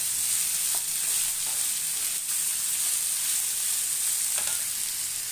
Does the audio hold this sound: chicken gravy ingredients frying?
yes